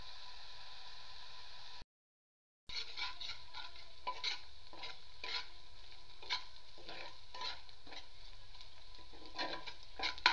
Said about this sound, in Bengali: পেঁয়াজটা আস্তে আস্তে করে ভাজতে হবে